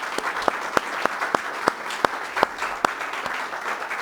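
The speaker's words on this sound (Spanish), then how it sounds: "Un aplauso al Señor." Church congregation applauding together during a Spanish-language sermon, a steady wash of clapping with a few sharper, louder claps popping out at irregular moments, no voices over it.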